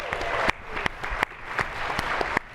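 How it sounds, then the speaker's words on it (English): An audience at a panel event on equal pay claps for an introduced guest: a brief, fairly close burst of scattered, uneven handclaps with a few sharper claps standing out. "Please give her a round of applause."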